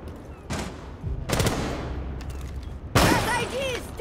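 Gunfire crackles in the video game Rainbow Six Siege, with three loud bursts of shots at about half-second, one-and-a-half-second and three-second marks over a noisy game background.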